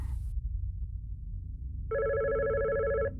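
A telephone rings in a video game, a single steady electronic ring tone of about a second over a low, rumbling background hum, with no voices.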